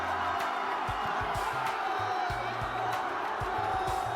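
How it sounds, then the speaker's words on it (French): A large crowd roars and cheers on packed Paris boulevards as people celebrate their football club, a steady wall of shouting and whooping with no pauses. "Les trottoirs bondés de grands boulevards deviennent une seule et même foule hurlante."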